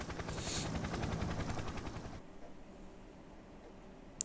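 A helicopter rotor in the Persona 4 Arena Ultimax video game whirs in a loud, rapid chopping pulse, then cuts out to quiet hiss and a final small click.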